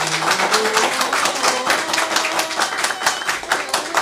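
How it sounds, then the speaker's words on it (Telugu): An audience applauds at a Telugu stage play, a dense, steady roar of many hands clapping that carries on loudly throughout. "ఆ తాదాప్యానికి పరాకాష్టే మీరందించే చప్పట్లు."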